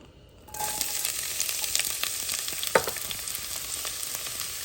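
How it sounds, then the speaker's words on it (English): Onion dropped into hot oil, giving a sudden loud sizzle after a quiet start, then a steady close frying crackle with a brief clink. "So once the oil is nice and hot and dancing, we're going to add onion."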